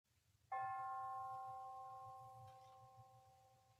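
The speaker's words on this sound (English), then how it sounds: "As the name is mentioned and the sound of the bell is heard" A remembrance bell at a monthly memorial service is struck once, giving a clear ringing tone that fades slowly over a few seconds against a quiet background.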